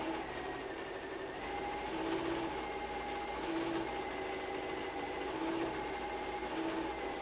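A sewing machine stitches self-binding napkins, a steady continuous mechanical whir with a faint repeating hum, running close and alone without pause.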